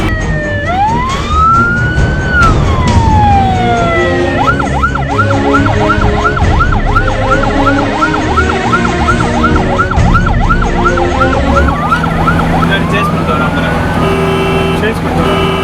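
A 108 ambulance siren wails nearby in heavy traffic, sliding up and down then switching to a rapid yelp, over steady traffic noise and occasional voices.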